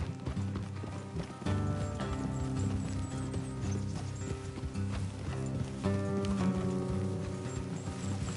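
Horses galloping in Red Dead Redemption 2, a dense, continuous clip-clop of several sets of hooves with a rough, rain-like texture, steady and close throughout.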